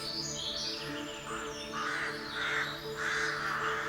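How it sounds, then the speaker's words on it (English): Rooks calling in spring on Mersea Island, Essex, with harsh repeated caws from several birds overlapping at moderate distance against a steady outdoor background. "These rooks are amongst many birds engaging in courting, mating and nest building"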